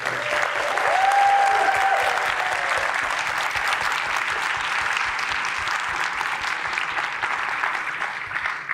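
Audience at a professor's inaugural lecture applauding steadily, with dense, sustained clapping filling the hall and no break.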